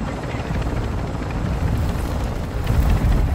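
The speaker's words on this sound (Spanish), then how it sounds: "Activé el drone bomba, no sé por qué." An activated bomb drone in Call of Duty Warzone DMZ gives off a steady, loud rotor-like whir and rumble that builds slightly toward the end, close and continuous, with no talk.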